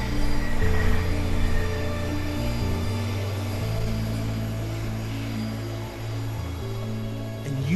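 A deportation airliner passes overhead, recorded from the ground as a steady, loud engine roar with droning low tones that hold for several seconds.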